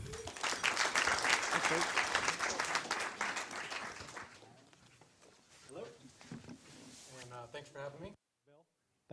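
An audience breaks into loud, dense applause to welcome a speaker at a university startup-lessons talk, which fades after a few seconds as the speaker begins talking.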